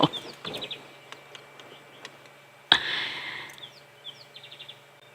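An African harrier hawk calls with short, high, thin whistles, heard at moderate distance against a quiet dusk safari backdrop. Other small chirps and ticking sounds join it, and a sharp louder burst comes midway.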